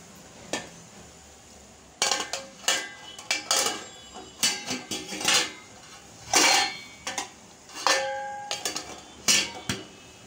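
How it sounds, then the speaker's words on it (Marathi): Metal pots and a steamer vessel clank and knock in a series of sharp, close bangs and scrapes while a pot of batter is set into a steamer over hot water, with short pauses between hits and no talking. "आता आपण हे भांडं जे आहे ते त्याच्यामध्ये ठेवून घेऊया"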